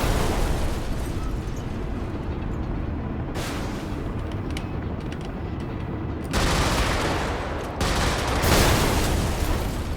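Depots blowing up in the top-down mech combat game Brigador: dense, continuous roaring blasts and crackling gunfire, loud and sustained, with fresh bursts surging in about two-thirds of the way through.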